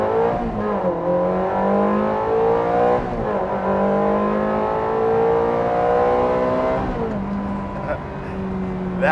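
A Ferrari 360 Challenge Stradale V8 with an 8,500 RPM redline revs hard, its loud engine note climbing and dropping through several rises across the run, heard close with no talking.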